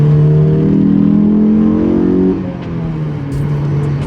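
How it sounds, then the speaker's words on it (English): Honda S2000 engine revving with intake induction noise during a night drive, a loud close droning rev holding steady for about two seconds before dropping off to a lower cruising hum. "with the intake, the induction noise, it sounds like a completely different tone or character of this engine"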